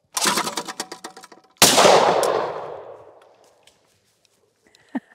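Shotgun blasts at a clay target shoot for grouse season practice: a burst of rapid sharp reports, then one loud close shot that rings out and decays over about a second and a half, with faint small noises afterward.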